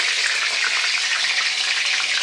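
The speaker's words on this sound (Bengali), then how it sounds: "দেখো এবার আমি চিকেনটা ভাজতে শুরু করে দিয়েছি" Chicken frying in hot oil, a steady dense sizzle that stays loud and even throughout, close by with no talking.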